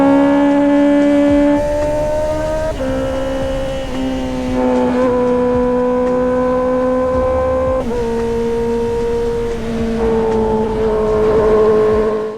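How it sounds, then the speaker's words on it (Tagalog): A Honda CB650R with an aftermarket exhaust sings a loud, continuous engine note while riding, pitch rising and dropping through gear changes over steady wind rush. "nasa ride tayo gamit ang Honda CB650R na naka-aftermarket exhaust at ganito ang audio"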